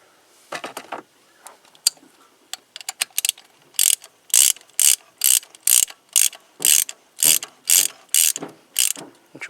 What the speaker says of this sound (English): And take your ratchet. And you want to torque it to the manufacturer specifications.